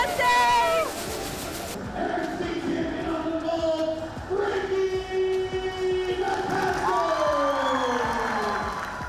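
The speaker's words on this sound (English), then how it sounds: "hearing everyone cheer my name" A school prep rally crowd cheers and yells in a large space, a loud sustained wash of voices with shouts rising and falling throughout.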